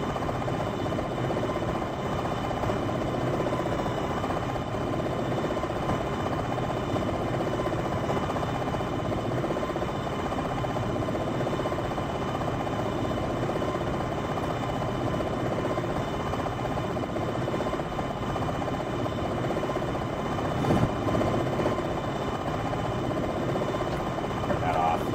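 Helicopter in the flight game Jane's Longbow, a steady droning rotor and engine hum running the whole time at an even moderate level, with a person talking over it.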